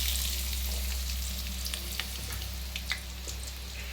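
Onions tossed into well-heated oil frying steadily in a pan, a dense close sizzle with a low hum beneath and occasional small pops and crackles, no voices.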